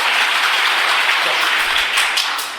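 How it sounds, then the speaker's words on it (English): A class of students at a Ramakrishna Math session in Hyderabad claps together in one sustained burst of dense, loud applause lasting a couple of seconds. "With full devotion, totally concentrated, very good clapping."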